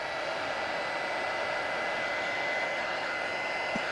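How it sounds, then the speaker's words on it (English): A heat gun warms the celluloid and ebonite parts of a 1945 Parker Vacumatic Silver Pearl fountain pen, giving a loud, steady, close-up blowing hiss that runs unbroken throughout with no talking. "I'm going to give it a little bit of heat with my heat gun"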